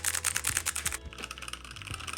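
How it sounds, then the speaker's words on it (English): Fingers type on a Redragon K556 mechanical keyboard with brown switches, a quick close burst of crisp clacks followed by a few slower, separate keystrokes. "So while you press these down, and you get a little bit of a tactile bump"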